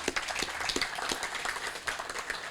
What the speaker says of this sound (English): I ask all of us to give him a round of applause